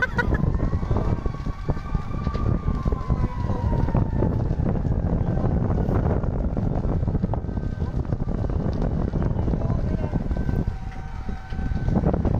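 A fire truck siren wails near a house fire in Taytay, Rizal, its wavering tones rising and falling under heavy wind buffeting on the microphone and rumbling traffic, fading in and out across the scene.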